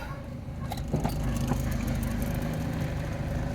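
A VAZ 2109 with a 1.3 L engine, just back from a piston ring replacement that caused an oil pressure fault, runs at a steady idle close by, a continuous low engine drone with no talking over it.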